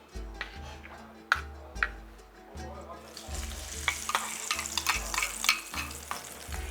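Oil already heated in a pan for a traditional merak tava dish, with soft sizzling and frying joined by rhythmic ticking stirring taps against the pan, growing busier and louder in the second half.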